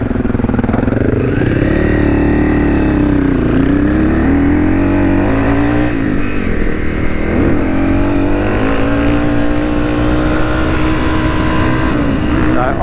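A CRF300 or KTM500 dirt bike accelerates away, its engine revving up and shifting through gears in a steady, loud, continuous roar that rises and falls in pitch, with no talking.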